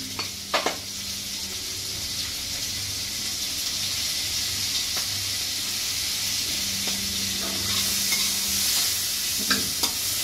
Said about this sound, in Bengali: চিংড়ি মাছটাকে হালকা করে একটুখানি নাড়িয়ে নেব